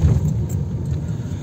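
A truck carrying a tall paddy load arrives with a steady, close, low engine rumble. The sound holds a fairly even level throughout.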